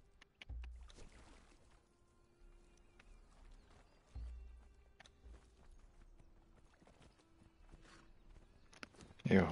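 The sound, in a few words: horse walking in Conan Exiles video game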